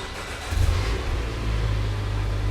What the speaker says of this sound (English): So now if we start the car